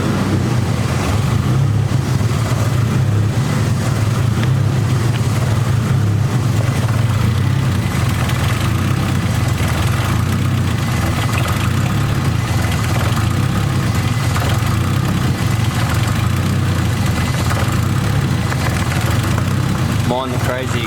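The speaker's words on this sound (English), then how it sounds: "Mind the crazy exhaust leak" A Nissan S14 drift car idles with a leaking dump pipe, giving a steady, close, low rumble and throbbing vibration that carries on unbroken the whole time.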